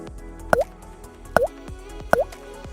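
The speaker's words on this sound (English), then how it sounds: "Simply pour the cleaner into the gas tank." Catalytic converter cleaner is poured into the gas tank of a Honda, giving three distinct liquid plops at an even pace about a second apart, close and crisp against a quiet background.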